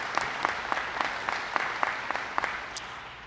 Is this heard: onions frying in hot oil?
no